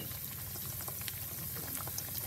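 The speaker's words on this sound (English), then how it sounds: "Add your ciborek to your hot oil, and you're going to fry these up" Ciborek, Turkish meat pies, frying in hot oil, a steady close bubbling sizzle with scattered pops, continuous and alone.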